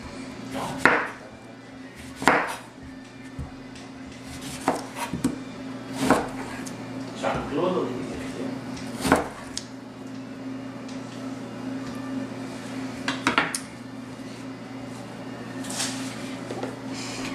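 A kitchen knife cuts through food on a cutting board, making it into wedges. Scattered, sharp chops and thuds land irregularly over a steady low background hum.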